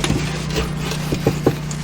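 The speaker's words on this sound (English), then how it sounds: "Then we wipe it down to get all the crud off." A cloth rubs across the rusty hood of a Triumph Spitfire 1500 in a few short scrubbing strokes over a steady low hum, close and fairly loud.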